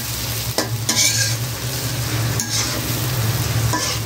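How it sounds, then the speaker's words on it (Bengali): Sliced onions for tilapia do-pyaza fry steadily in hot oil, a continuous loud sizzle broken by a few bursts of stirring across a few seconds, with no voices. "তো মোটামুটি ভাজা হয়ে গেছে পেঁয়াজ।"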